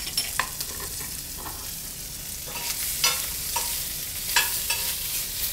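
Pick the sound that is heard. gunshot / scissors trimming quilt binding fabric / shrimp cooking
shrimp cooking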